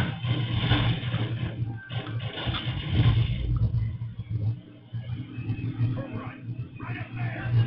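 A car engine in the video game Call of Duty revs and drones steadily during an escape drive, with a mid-pitched hum that swells and dips and voices talking over it.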